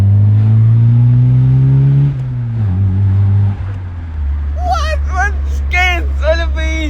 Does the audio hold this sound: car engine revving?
yes